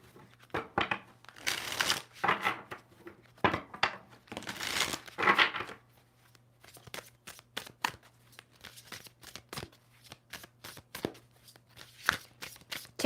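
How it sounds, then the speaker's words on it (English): Tarot cards shuffled by hand in bursts of riffling and sliding, followed by a run of crisp, separate card snaps and taps, close and clear over a faint steady hum. "Two more shuffles for Leo."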